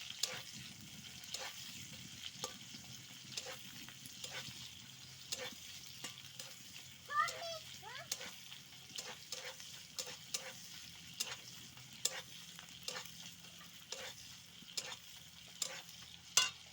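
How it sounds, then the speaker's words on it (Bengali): Chopped onion frying in oil with cumin and bay leaf, crackling sizzle punctuated by regular scraping stirs of a spatula at close range, no talking. "জিরে তেজপাতা দিয়েছি, আর এই যে পেঁয়াজ কুচি দিচ্ছি।"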